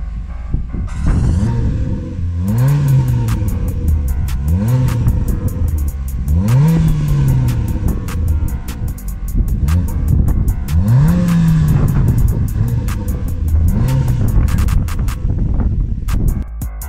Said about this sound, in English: The silencer has been cut out and it sounds mean.